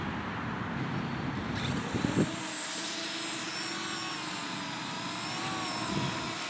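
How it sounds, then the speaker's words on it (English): A Yuneec Breeze drone taking off in selfie mode: its small rotors spin up into a rising, whining buzz that holds steady over a windy outdoor background, with no one talking. "I'm going to take off in selfie mode here"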